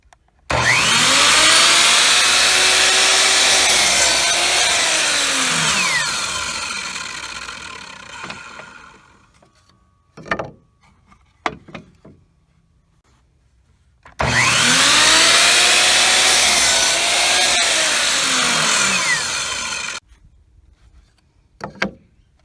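Power saw blade cutting through scrap wood, two long loud whining passes several seconds each with a steady pitch, separated by a quiet stretch with a few knocks and clatters of wood being handled.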